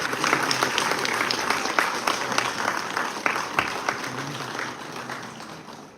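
Audience applause at a book launch ceremony honouring judges, a full room clapping steadily at moderate distance, tapering off slightly toward the end.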